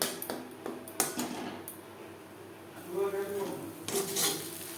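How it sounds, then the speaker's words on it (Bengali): Prawn head paste stirred in a wok to dry it out, with irregular metallic scraping and clinks of a spoon against the pan and a soft underlying sizzle in short bursts. "সেটাকে এইভাবে অনবরত নাড়াচাড়া করে ড্রাই করে নিতে হবে"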